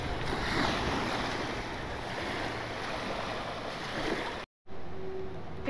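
Waves wash continuously onto the shore of Lake Superior, a loud, steady surf roar mixed with gusting wind buffeting the microphone, broken by a brief cut near the end.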